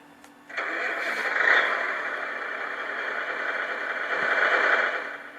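A Tamiya 1/14 King Hauler RC truck's onboard engine-sound unit starts up with a short cranking burst, then runs as a steady, moderately loud simulated diesel idle that swells slightly toward the end.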